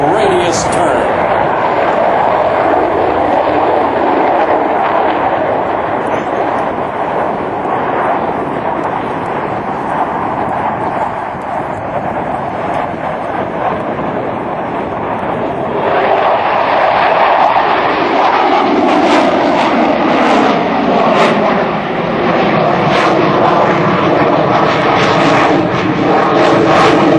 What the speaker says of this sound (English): Pulling the stick into their lap in the Super Hornet minimum radius turn.